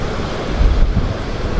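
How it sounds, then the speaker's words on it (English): Ocean waves break and wash in on Wildwood beach under strong wind, a steady roaring surf mixed with gusty low buffeting at the microphone. "Let's look at these waves come in, man."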